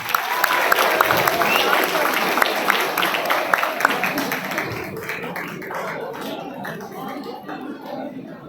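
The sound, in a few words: audience applause at a college event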